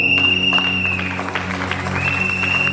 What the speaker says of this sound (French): Est-ce qu'on peut applaudir pour nos mamans?